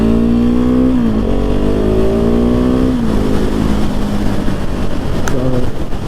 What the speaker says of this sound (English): this motorcycle is just crazy